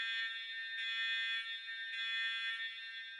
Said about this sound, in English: one of those is actually a car alarm